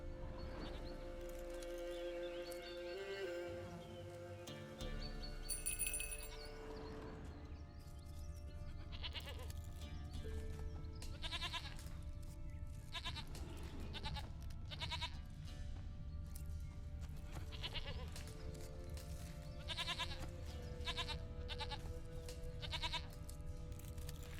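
A goat in The Witcher 3 bleats repeatedly over game music and ambient farm sounds, faint and intermittent across a long stretch, with occasional hoof clops.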